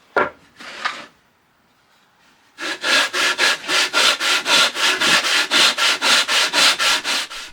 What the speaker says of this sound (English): Sanding, sanding, sanding.